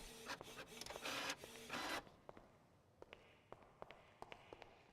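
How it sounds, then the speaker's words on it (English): Office printer printing a document: two loud mechanical whirring passes with feed clunks in the first two seconds, followed by quieter scattered clicks and taps as the paper settles, no talking. "It is very loud, the printer."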